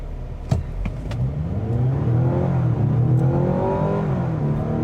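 A 2025 Mazda CX-70 plug-in hybrid SUV launches hard from a standstill, its engine note climbing steadily under load with a whirring tone, after a few short clicks at the start.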